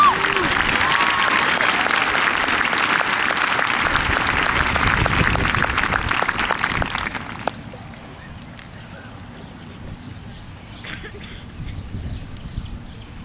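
Crowd at a 2010 high school graduation ceremony claps loudly and continuously for about seven seconds, then the applause cuts off into quieter room noise with scattered faint sounds.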